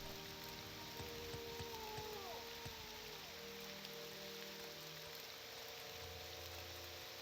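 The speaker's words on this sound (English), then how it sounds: "It's raining? I swear, before I went into that house, it was not storming." Steady rain falls in the video game Morrowind, a faint, even hiss of drops with a soft tonal sweep near the start.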